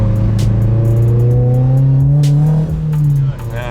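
A boosted Subaru BRZ pulls hard on the highway, its engine note climbing steadily in pitch through a strong, close acceleration before easing off near the end, with wind and road noise around it.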